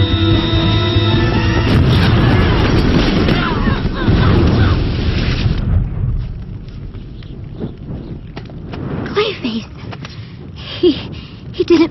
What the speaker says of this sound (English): The building's going to explode!